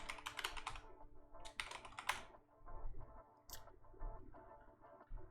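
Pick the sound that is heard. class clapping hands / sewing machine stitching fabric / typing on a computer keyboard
typing on a computer keyboard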